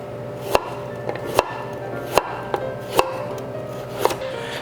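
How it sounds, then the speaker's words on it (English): A kitchen knife julienning carrot on a cutting board for a Korean vegetable pancake (pajeon), sharp chops landing at an uneven pace, about five or six close, distinct hits over a low background hum. "we're gonna julienne the carrot"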